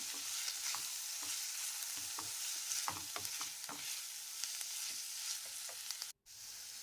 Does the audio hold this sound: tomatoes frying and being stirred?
yes